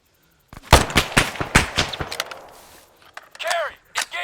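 Machine gun fire in ArmA 3 combat, several loud close bursts of sharp shots followed by quieter distant rattling and echoing reports, with a brief whooshing sweep near the end.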